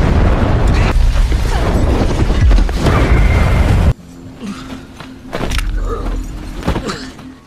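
A loud, dense blast of rumbling noise that cuts off abruptly, followed by quieter scattered bangs and clatter, like an explosion and its aftermath.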